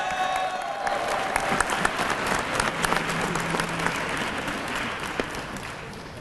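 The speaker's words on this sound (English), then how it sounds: "Let's give them a warm round of applause." Warm applause from a crowd at a police recruit class graduation ceremony, steady dense clapping throughout with a few sharper claps standing out, moderately loud and without talk.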